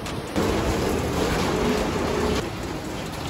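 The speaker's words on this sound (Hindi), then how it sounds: "ये बारिश रुकने का नाम नहीं ले" Heavy rain pours steadily in Mumbai, a dense hissing wash close by that swells briefly louder before easing slightly, with no talking.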